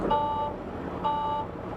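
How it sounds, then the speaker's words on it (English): Two steady electronic beeps from a truck's low air pressure alarm during a pre-trip inspection, each about half a second long, sounding under a low engine idle. "Now you hear your low air alarm is working."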